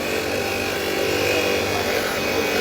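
Steady power-tool whine of an abrasive deburring the edges of an Alimak Scando 650 roller, running continuously and loud with no pauses and no talk.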